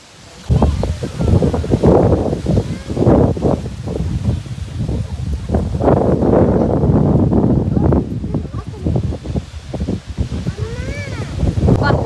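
Strong wind buffets and roars across the microphone in gusts outdoors, whipping trees and plants about, while people shout and talk over it throughout.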